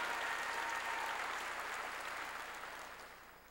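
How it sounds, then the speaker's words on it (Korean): A church congregation claps together during a sermon, a quiet, even wash of applause heard from a distance that slowly fades toward the end. "시편 기자가 오늘 얘기한 걸 읽은 사람만 박수로 하나님께 영광 돌리라는 거예요."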